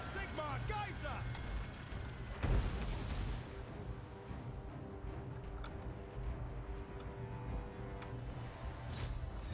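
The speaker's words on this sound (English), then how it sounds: "Cannons fire." Cannons fire in a Warhammer video game battle in Middenland, with one loud, close boom standing out over continuous battle noise and a low rumble while someone talks.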